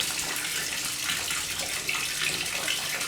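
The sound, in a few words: strong water flow from Samsung washing machine hose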